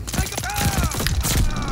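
Machine pistol fire from the shooter game Call of Duty Vanguard comes as a dense, busy rattle of shots and thuds over a continuous game mix, with a voice talking throughout.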